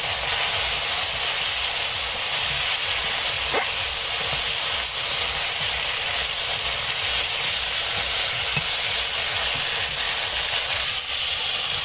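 Foli fish dropped into hot fried spice paste, giving a continuous loud sizzling hiss that stays steady throughout, with no voices.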